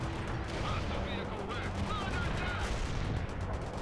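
Gunfire and shelling in the video game World in Conflict, with scattered shots and bursts over a rumbling battle bed, moderately distant and fairly quiet, continuous throughout.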